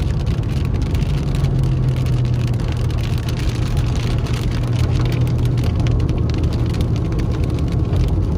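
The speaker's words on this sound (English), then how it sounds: "it really started to pick up. That rain did." Heavy rain drums steadily on a car's roof and windshield during a lake drive through Fawnskin in Big Bear, California, a loud, dense patter over the low rumble of the engine and tires. The sound runs unbroken and no one talks.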